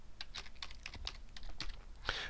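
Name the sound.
typing on a computer keyboard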